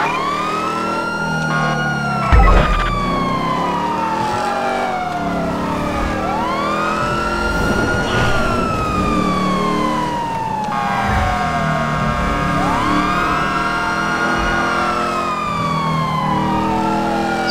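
A wailing ambulance siren in the GTA V LSPDFR police game, loud and near, sweeping up and down repeatedly over engine noise with a brief thump early on.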